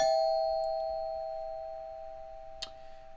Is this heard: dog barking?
no